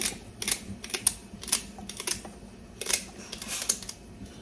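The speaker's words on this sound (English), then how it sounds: "So cutting up this celery." A knife chops celery on a board in a home kitchen, giving a run of sharp, irregular clicks, some in quick bunches, close by and alone over a quiet background.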